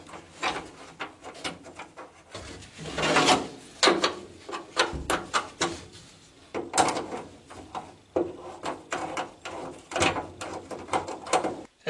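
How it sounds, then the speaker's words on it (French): Two bolts are fitted into a seat base while a Citroën Xantia interior goes into a Citroën Traction 11B: a close, steady series of metallic clicks, clunks and ratcheting scrapes, with no talk. "Et cette fois-ci, je peux y mettre les deux boulons."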